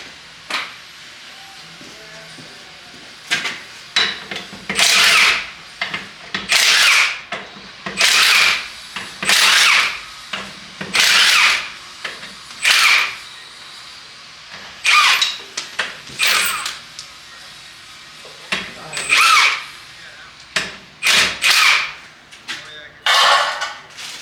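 Power tool working on the back of a 1967 Bonneville being stripped down, firing in repeated loud mechanical bursts of a second or two with gaps between, while someone talks in the pauses.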